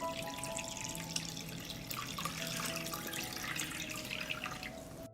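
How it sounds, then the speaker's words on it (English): Water pours steadily into a pot of jars being readied for pasteurizing fruit, a soft continuous splashing and gurgle that runs at even strength for about five seconds before stopping abruptly. "I pour water into the pot up to the height of the lid."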